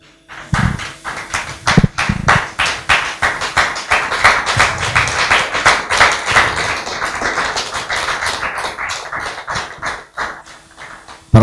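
An audience in a church claps in a sustained burst of applause lasting several seconds, dense and loud at first and gradually thinning out toward the end.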